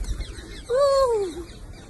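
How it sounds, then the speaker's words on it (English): A parrot gives a single clear, tonal vocalization, a short rising-then-falling whistle-like call lasting about half a second, close and fairly loud over quiet background. "When a parrot comes and jumps on your head"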